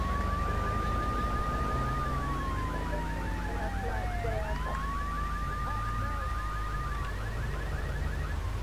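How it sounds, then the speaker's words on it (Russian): A police car siren wails in the video game GTA 3 Definitive Edition, a long rising and falling sweep over a rapid pulsing alarm-like chirp, loud and continuous over a rumbling engine-like drone. "вся эта сигнализация"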